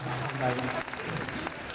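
Steady applause from a concert audience fills the clip, with a voice speaking over the clapping at the start during member introductions.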